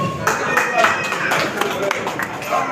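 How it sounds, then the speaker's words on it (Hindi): Applause at a farewell ceremony for loco pilots in Rampurhat gives a brief burst of dense clapping from a crowd, mixed with voices. "जोरदार तालियां स्वागत करेंगे"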